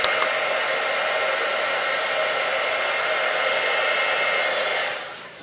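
A heat tool blows clear embossing powder on chipboard with a steady, loud, hissing airflow roar, running alone for about five seconds before it cuts off.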